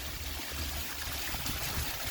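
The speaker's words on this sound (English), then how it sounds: "And we got our waterfall." Water from a small garden waterfall trickles and splashes in a steady, even wash that continues throughout, fairly close and with no talking.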